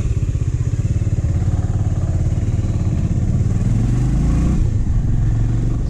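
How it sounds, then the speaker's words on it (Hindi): A motorbike rides close behind on a mountain road on the way from Ranikhet to Rudraprayag, its engine droning steadily and loudly with some clatter, the pitch shifting slightly near the end; a voice says a brief word. "एक बाइक और है हम लोग के पीछे आ रहा है"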